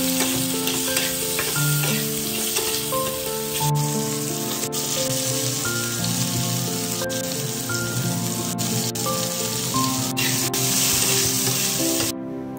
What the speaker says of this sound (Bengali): এখন এই সবজিগুলো তেলের মধ্যে হালকা ভেজে তুলে রাখতে হবে